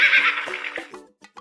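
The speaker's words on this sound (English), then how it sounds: "Horse." A horse gives a single loud, close whinny that falls in pitch and tails off, followed by a couple of short snorting breaths.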